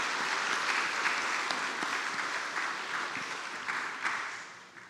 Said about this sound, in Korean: 우리 격려의 박수, 응원의 박수 한번 심차게 해주시겠습니다